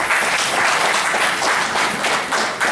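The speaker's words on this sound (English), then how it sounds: "Let's clap for Babcock." Audience applause for Babcock University at a mushroom growers' association event in Nigeria, a dense, steady wash of many hands clapping together, loud and close for the whole stretch with no talk over it.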